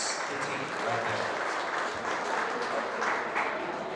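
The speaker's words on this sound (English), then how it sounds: "let's give a round of applause to that team." Applause from an event audience honouring the organizing team at a riverfront remembrance screening, a steady wash of clapping that holds at an even level for the whole span with faint voices mixed in.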